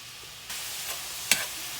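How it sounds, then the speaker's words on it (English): Frozen peppers and onions sizzle in a hot pan, a steady hiss that swells after a moment and is followed by a single sharp clink of a utensil. "we're going to go ahead now and get these peppers and onions cooked down."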